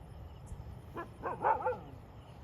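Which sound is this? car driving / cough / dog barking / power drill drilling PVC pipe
dog barking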